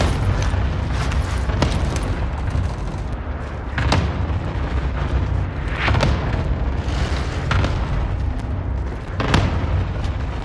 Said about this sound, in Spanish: Ataque de racimo enemigo en camino.